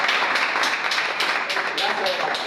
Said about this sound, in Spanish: Dense un aplauso a ustedes mismos.